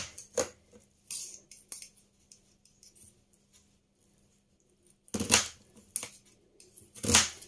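Kitchen knife slicing through halved onions on a board, sharp chopping strikes in uneven bursts with quiet gaps between, two louder cuts near the end.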